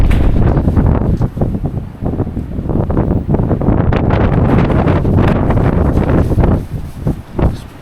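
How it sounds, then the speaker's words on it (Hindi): Strong wind roars through a Canadian snowstorm, a loud, constant rushing blast with heavy buffeting against the microphone and gusty surges throughout, with no voices. "इतनी स्पीड से हवा चल रही है।"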